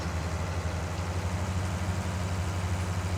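A farm tractor engine runs at a steady, low idle-like rumble close by while backing up to a disc harrow, droning continuously with no talk.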